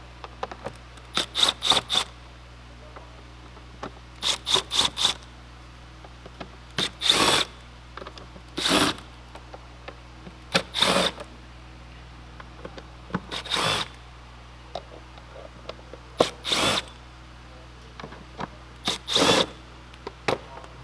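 A power tool works on the bolts of a Volkswagen Golf air box in short, loud bursts of whirring, roughly a dozen spaced across the stretch with quiet gaps between them.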